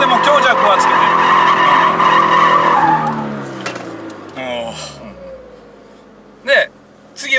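Toyota 86/BRZ drifting under steady throttle, a loud sustained tyre squeal with the engine note that fades and falls away, followed by quieter engine sounds and short bursts of noise close by.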